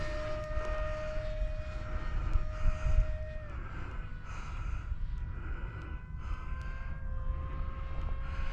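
An FF-35V2 RC plane with a 6-inch prop flies on its maiden flight, its motor giving a steady whine that shifts in pitch as the throttle changes, heard at moderate distance over outdoor breathing and rustle.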